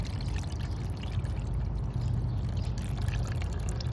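Old coolant drained from the reservoir of a 2006 Chrysler 300C pours steadily into an oil container, a continuous close, full gurgling stream with no talk.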